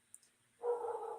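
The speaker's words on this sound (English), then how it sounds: "the door's open now, so you might hear my dogs barking" A single dog bark sounds faintly from another room through an open door, brief and muffled after a moment of near silence.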